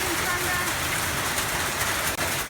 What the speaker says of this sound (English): This rain only started like 2-3 minutes ago.